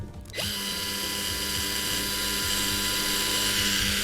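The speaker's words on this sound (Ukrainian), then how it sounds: "давайте спробуємо виставити найвищу швидкість і як швидко воно поїде" Dnipro-M DSG-200 cordless sealant gun motor running at its highest speed, a close, steady high-pitched electric whine with a faint rhythmic mechanical ticking, starting sharply after a brief quiet moment.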